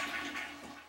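A toilet in an Earthship home flushes in a short rush of water that lasts about a second and cuts off abruptly.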